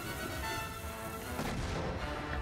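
Gunfire in the video game Lego Indiana Jones 2 during a fight in a bar and town, heavy booming shots blending into a continuous rumbling barrage with no talking.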